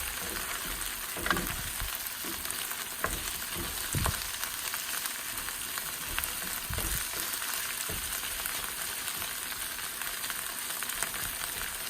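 Hot peppers frying in a pan of spattering oil, producing a continuous loud sizzle with occasional pops and crackles; close up, no talking.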